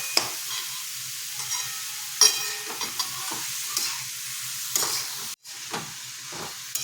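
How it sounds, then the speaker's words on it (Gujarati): Grated carrot roasting in ghee for gajar halwa over a medium-to-low gas flame, a quiet continuous sizzle broken by occasional stirring scrapes and taps. "આવી રીતે આપણે ગાજરનું છીણ શેકી લઈશું।"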